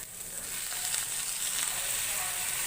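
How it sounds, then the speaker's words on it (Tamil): Chopped radish sautés in a pan for radish chutney, giving a steady, even hissing sizzle that swells slightly and continues without pause. "இந்த முள்ளங்கி ஒரு 2 நிமிஷம் வதக்கிக்கலாம்."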